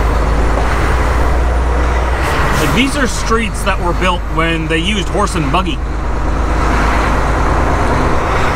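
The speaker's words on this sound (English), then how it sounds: "Yeah, look at all these big trucks coming down here though." Big trucks roll down a long, straight Chicago street, giving a steady, heavy road rumble throughout while someone talks over it.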